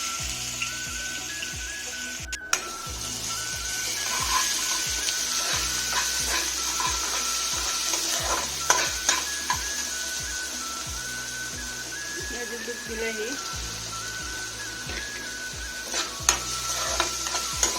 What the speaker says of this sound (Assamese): তেলখিনি গৰম হৈছে এতিয়া দি দিলোঁ গোটা জিৰা